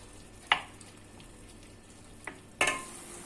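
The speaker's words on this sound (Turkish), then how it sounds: "Daha sonra da suyunu çekerek pişecek. Güzelce kavuracağız." Beef kavurma sautéing in a pot, a soft steady sizzle broken by a few sharp stirring clanks of a spoon against the pot.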